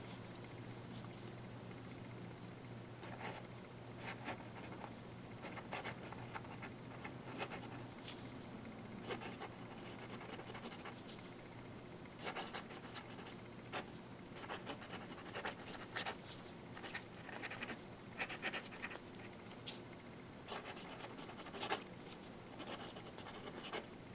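A Kaweco Special fountain pen draws on paper, producing faint, close scratchy strokes in irregular bursts of short scrapes and rubs that continue through a quiet room.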